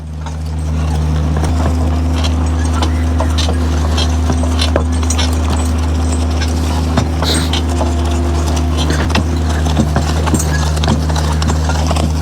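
Draft horses walk on a farm during haying, their hooves clip-clopping in a steady rhythm with harness jingle, close and loud over a constant low engine hum.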